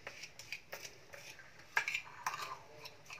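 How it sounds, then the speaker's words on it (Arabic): A utensil taps and scrapes against a bowl while a cumin, coriander and turmeric marinade is stirred, producing a quiet, irregular series of light clinks and scrapes. "كده التتبيله بتاعتي يعتبر كده هقلبهم مع بعض"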